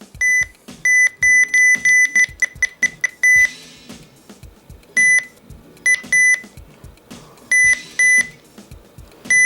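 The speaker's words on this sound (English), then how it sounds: "Back to the button beeps." Sharp electronic beeps repeat in quick, irregular clusters from a nearby RadioShack 12-259 radio, with soft clicks of pressed buttons between them.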